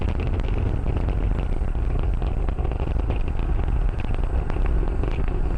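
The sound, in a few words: SpaceX Falcon 9 rocket Merlin engines roaring during ascent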